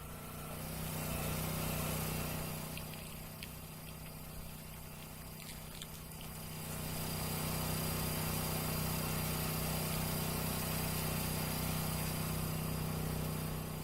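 The engine of an Ariens hydraulic wood splitter runs steadily throughout, a loud droning hum close by, easing slightly in the middle before rising again, with no voices.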